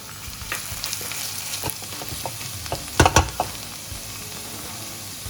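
Ginger garlic paste frying with onions in a pan, a soft steady sizzle under scraping stirs and a few louder clacks of a utensil against the pan.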